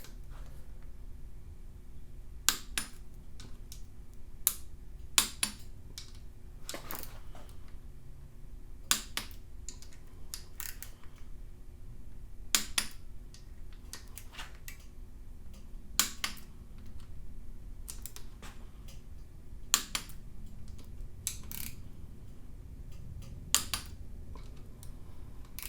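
Eastwood torque wrench tightening rocker bolts on an LS7 engine to 22 foot-pounds, giving sharp, isolated clicks every few seconds over a low steady hum, close and fairly quiet, with no talking.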